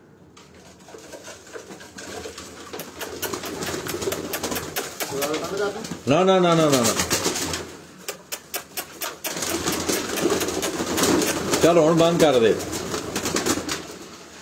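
Breeder pigeons coo and flutter close by on a rooftop in Lahore while someone talks over them, with a burst of rapid clattering in the middle.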